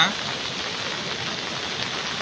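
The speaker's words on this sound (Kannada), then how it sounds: "ಧಾರಾಕಾರ ಮಳೆ ಸುರಿಯುತ್ತಿರುವ" Steady, dense hiss of heavy rain pouring down in Karanjibi, a border village in Bidar district, Karnataka, loud and continuous without a break.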